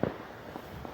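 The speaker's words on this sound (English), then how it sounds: "for those doing these fireworks" A firework set off for an Independence Day celebration gives one sharp pop right at the start, followed by a short stretch of faint crackling and rumble. No one speaks.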